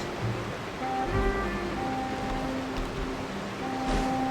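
Calm sea waves wash softly in the Genshin Impact video game, a steady low surf under light in-game music tones, with no talking.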